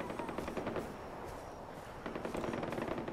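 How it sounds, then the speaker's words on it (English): Rapid bursts of automatic gunfire from people shooting in the video game Far Cry 4, two quick rattling volleys separated by a short lull, fairly faint. "Yeah, people shooting."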